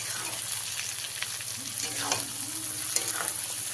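Capsicum and chopped green chilies frying for dhaba-style chilli chicken, a steady close sizzle with stirring scrapes throughout, no talk.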